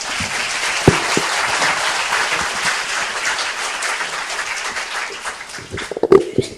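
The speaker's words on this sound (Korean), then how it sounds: "뜨거운 박수 부탁드립니다" Applause from a conference audience welcoming a speaker to a forum talk on Marxism and terrorism: dense, sustained clapping from a large crowd that thins out near the end, with a few louder knocks.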